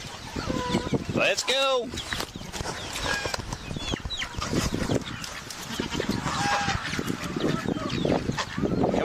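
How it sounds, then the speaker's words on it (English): Farm poultry including chickens, turkeys and ducks call out, with a clear honking, clucking burst early on and further scattered calls, heard amid loud shuffling and a voice urging animals along nearby. "chickens, turkeys, ducks"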